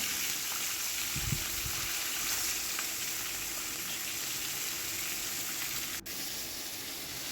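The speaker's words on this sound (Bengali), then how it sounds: "লাস্টে মাছের মুড়োটা আমি ভেজে নেবো ভালো করে লাল করে ভেজে নেবো" A fish head frying in hot oil in a wok gives off a steady, close sizzle that holds for the whole stretch, with a few brief stirring clatters near the start.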